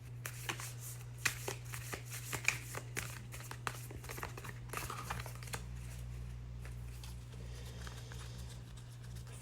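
A star oracle card deck being shuffled, with a run of soft, quick card riffles and flicks at close range over a steady low hum, with no talking.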